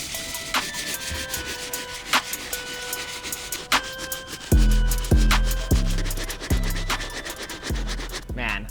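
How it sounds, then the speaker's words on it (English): A medium bristle brush scrubs stains on the beige area of a Nike Air Max 90 Warhawk sneaker, making about six close, firm, rhythmic scraping strokes in the second half after a quieter stretch of light tapping. "We're gonna move on to the medium bristle brush. There are a couple of stains back here on the beige area."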